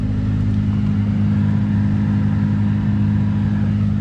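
The blower motor of a 2003 GMC Sierra, suspected of running out of balance, runs with a loud, constant droning hum and low vibration, steady throughout with no talking.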